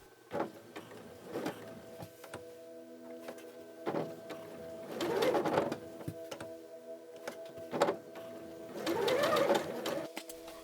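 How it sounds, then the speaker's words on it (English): A sewing machine stitches along a fabric seam at a 5 mm offset, running in several loud whirring bursts of a few seconds each, separated by short pauses and sharp clicks, with low background music running beneath. "Sew next to the seam at 5 mm and at foot length."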